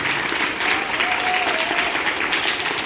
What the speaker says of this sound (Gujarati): આજે આપણે તાળીઓના ગણગડાટથી